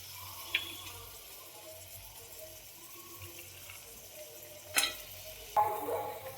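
Chickpeas, peas and potatoes are stirred into a thick masala gravy in a pan, making faint, quiet scrapes with a few brief louder clatters and splashes near the end.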